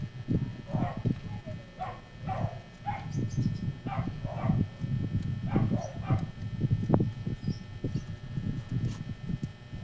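A dog makes a series of short whimpers and yelps, repeating irregularly over a low background rumble, fairly close by.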